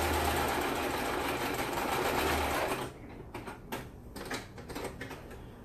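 A sewing machine stitches a seam on a fabric pumpkin, running steadily and fairly loud for about three seconds before stopping, followed by quieter handling clicks and rustles.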